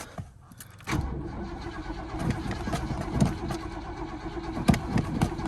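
A 1986 Oldsmobile Cutlass lowrider starts after a jump start: a sudden engine catch about a second in, then a steady, fairly quiet running engine with faint clattering, heard close.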